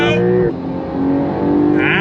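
Porsche 911 Carrera engine pulling hard on throttle, a loud rising engine note that dips briefly as a gear changes, then climbs again with a raspy, high whine.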